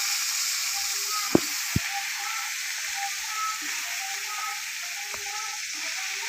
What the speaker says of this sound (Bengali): এটাকেও একটুখানি নুন হলুদ দিয়ে ভেজে নেব ভালো করে।